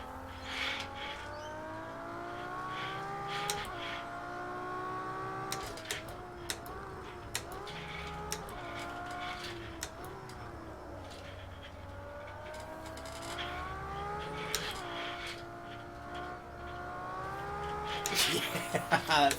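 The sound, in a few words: race car engine in Project CARS 2 video game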